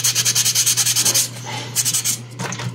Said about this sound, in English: with different grits of files and sandpaper, and sand that smooth.